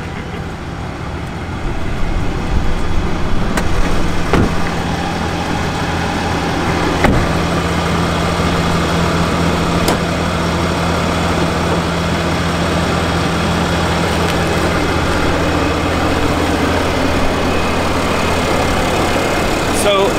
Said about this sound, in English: this one's got the Cummins turbo diesel in it